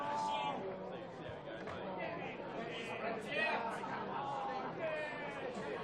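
Spectators at a Newcastle rugby league match shout and call out during a scuffle on the field, a busy babble of raised voices in the crowd, fairly close and continuous.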